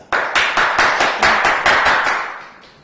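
A lecture audience welcomes a speaker with clapping for an education session, about ten loud, evenly spaced collective claps in a steady rhythm that fade slightly at the end.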